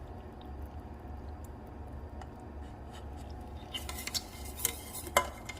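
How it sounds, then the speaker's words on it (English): Thickened chili sauce made with hamburger meat is poured over mac and cheese in a baking dish, giving a faint, soft wet slide that ends in a few light clinks and scrapes of a utensil. "I'm gonna pour this over my mac and cheese."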